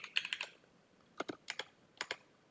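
Keys on a computer keyboard tapped in short quick bursts, a few clicks at a time separated by brief pauses, close and fairly quiet.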